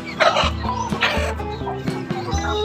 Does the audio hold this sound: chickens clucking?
yes